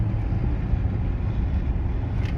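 A car drives out of Kostiantynivka toward Bakhmut with a constant deep rumble of engine and tyres on the road, steady and close, with no one speaking.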